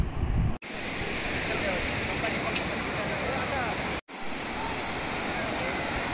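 Steady roar of sea waves and surf at Nagaon beach, a broad continuous wash with wind noise across the microphone, cut by two brief dropouts.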